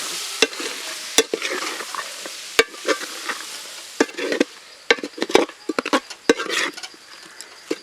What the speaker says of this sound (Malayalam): ഇനി നമ്മളിതൊന്ന് ഇളക്കി നമ്മൾ മിക്സ് ആക്കുക